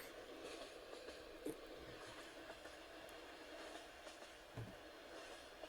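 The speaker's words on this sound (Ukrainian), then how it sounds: "Потяг повертає." A Minecraft train rounding a bend on a bridge over a lake, steady low rumbling rail noise with occasional clunks, faint and continuous, with no talk.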